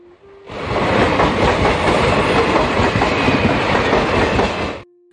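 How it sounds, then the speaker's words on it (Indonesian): A train coming from Cirebon passes along railway tracks at night, a loud close roar with rapid clickety-clack of wheels lasting several seconds before cutting off abruptly. "tak lama berselang melintaslah sebuah kereta api dari arah kota Cirebon"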